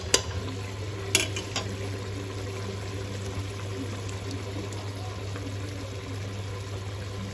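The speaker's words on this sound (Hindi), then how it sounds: "अब इस मौके के ऊपर इसमें घी डाल देते हैं" Ghee poured into a pot of cooking dal for dal gosht, a soft liquid pour with light stirring and faint sizzle over a steady low stove hum, with a couple of small clinks near the start.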